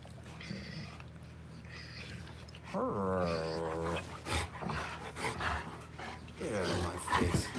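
Pit bull named Hulk chews and growls, producing low rumbling growls and pants with a higher whining vocal sweep, close and moderately loud, while a person talks nearby.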